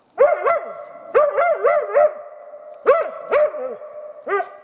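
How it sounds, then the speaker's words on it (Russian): A hunting dog barks at game up in a spruce during an autumn hunt, loud close yelping barks in quick bursts of three or four with short pauses between. "Дома одним голосом лает, а здесь уже совсем другое"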